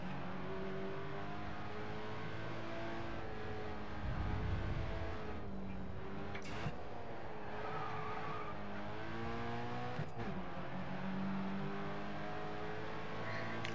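A race car engine in the racing video game GRID Autosport revs hard and drones steadily, with tire skids and a couple of sharp impact clicks, loud and close with no talk.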